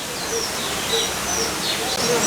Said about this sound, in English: A lot of bird noises.